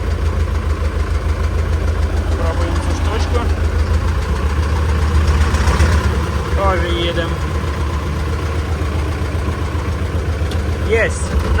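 A T-40 tractor engine idles after a clutch repair, a loud, close, steady diesel chugging with a knocking beat that runs throughout while people talk over it.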